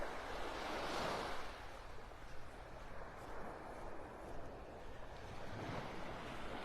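Gentle surf washing onto Vanderbilt Beach in North Naples, Florida, a soft continuous wash of waves with light wind rumble on the microphone, fairly quiet and without talk.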